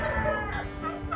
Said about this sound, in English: I guess the turkeys and the roosters want to crow